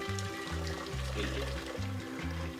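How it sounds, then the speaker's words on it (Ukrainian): Pre-boiled water from a kettle pours steadily into a pot for a couple of seconds, with faint rhythmic mechanical tones running underneath. "я попередньо закип'ятила її в чайнику і наливаю в каструлю."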